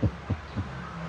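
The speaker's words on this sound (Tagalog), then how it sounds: "Pinabilis kong tibok ng puso niya." A heartbeat sound effect plays as three soft, low, evenly spaced thumps at a quick pace over a faint background hum.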